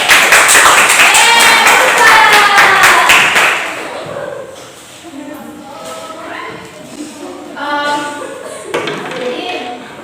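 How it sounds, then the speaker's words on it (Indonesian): Students in a biology classroom clap their hands together in a loud, dense burst for about four seconds, then the clapping fades into quieter shuffling and scattered talk. "tepuk tangan dulu."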